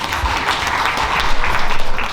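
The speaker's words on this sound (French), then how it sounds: "Applaudissez madame" An audience at a 20th wedding anniversary celebration in Quebec City applauds the wife, a short, loud, dense burst of clapping close by that swells slightly toward the end.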